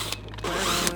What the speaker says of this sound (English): Should I just get my drill?